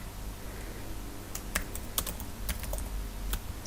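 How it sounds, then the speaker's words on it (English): Soft computer keyboard typing while entering text into an article, a few irregular faint key clicks spread over a quiet low room hum, no talk. "I'm going to type in comments from critics."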